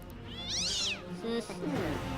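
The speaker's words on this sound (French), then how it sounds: "Et à l'écoute de ce cri, qu'est-ce qui retient notre attention?" A cat lets out a loud, drawn-out meow, followed by a couple of shorter, softer mews over faint background noise.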